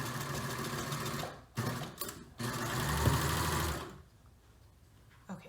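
A serger sewing machine runs in steady, loud mechanical bursts while reinforcing a seam on a lined hood, with short pauses between runs, then stops and the room falls quiet.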